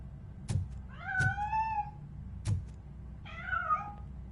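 A cat in the game Robocop Rogue City meows twice in drawn-out, rising-and-falling calls, separated by a pause, with dull thuds of footsteps or impacts around them and a low rumbling ambience underneath.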